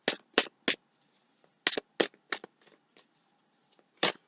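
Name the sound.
shuffling tarot cards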